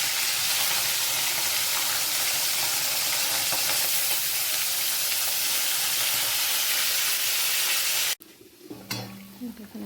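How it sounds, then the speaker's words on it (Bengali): Curry gravy boiling in a pot on a home stove, a loud, dense bubbling hiss that carries on steadily and then cuts off abruptly near the end, leaving quieter kitchen clatter. "ঝোলটা ফুটছে।"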